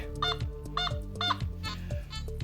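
A Nokta Makro metal detector in field mode gives several quiet, warbling electronic tones in quick succession, buzzy and almost honk-like, on a target reading 95 to 96.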